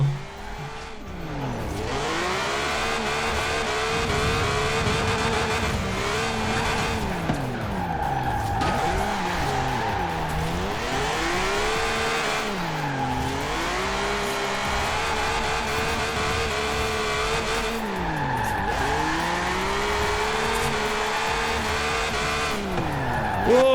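A six-cylinder BMW Z4 drifts in the Forza Horizon 4 racing game: tires squeal and skid continuously while the engine revs rise and fall in repeated sweeps, loud and sustained with no talking.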